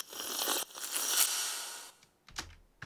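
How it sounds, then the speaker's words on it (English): A tea slurp sample resampled through a Valhalla Freak delay, heard alone as a bright, hissing smeared wash that swells and fades over about two seconds before a couple of short crackling bursts. "What I've done here is I've resampled slurp"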